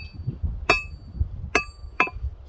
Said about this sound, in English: Some nice steel ringing sound.